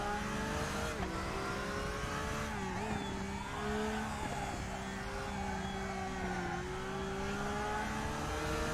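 A Porsche GT3 racing car engine in RaceRoom, droning steadily at high revs with slight pitch dips on lifts and gear changes, heard alone at moderate volume.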